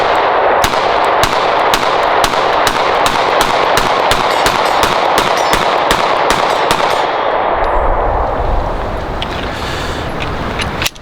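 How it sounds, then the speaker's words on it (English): Sig Sauer P320 pistol fitted with a TAC Ops frame firing a rapid string of loud, sharp shots in quick succession, about two dozen reports close by, followed by a quieter tail of ringing and handling noise. "So let me try the TAC Ops, see how this thing is."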